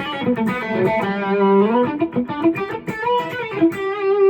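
A 2013 Gibson Les Paul Traditional Pro electric guitar plays a melodic phrase with a mildly gritty, lightly distorted low-gain tone, notes bending and sustaining, close and fairly loud.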